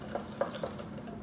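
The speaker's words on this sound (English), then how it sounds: "So let's start stirring," Vegan waffle batter stirred in a bowl, with three soft, evenly spaced clinks of a utensil against the bowl over a steady low kitchen background.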